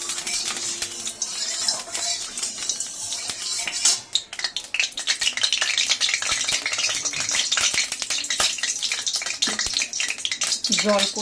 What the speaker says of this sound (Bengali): ফটফট ফটফট করে থাকছে।